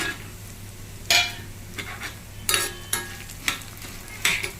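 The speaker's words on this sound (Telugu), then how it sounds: "దీంట్లోనే కొబ్బరి కూడా వేసేద్దాం." Coconut is added to a frying pan and stirred, with several distinct scraping strokes of a spatula over a soft sizzle, close and without talk.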